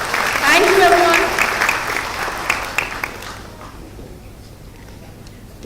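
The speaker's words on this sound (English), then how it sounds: "Can we have a round of applause for ma'am, please?" Audience applause at an academic institution's mid-year meetup, a dense burst of clapping that starts loud, tapers and fades out after about three seconds, with a voice talking over the opening moments.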